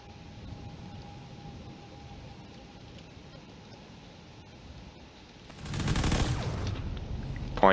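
Point defense guns firing in the Drone Wars video game, a loud burst of dense rapid fire erupting suddenly near the end after a long stretch of low steady background noise.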